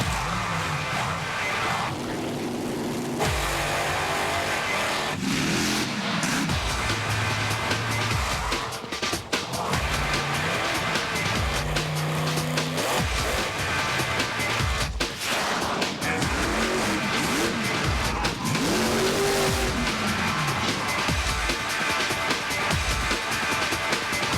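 Monster trucks perform in a freestyle show, their engines roaring and revving loudly in repeated surges, with rising and falling pitch and bursts of acceleration, over an arena crowd.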